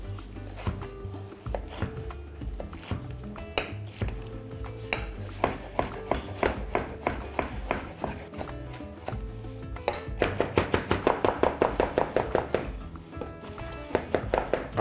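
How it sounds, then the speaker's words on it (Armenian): Spinach being finely chopped with a knife on a board: steady close knocks that speed into a fast, even run of sharp taps near the end, with no talking. "Սպանախը կտրատում ենք մանր"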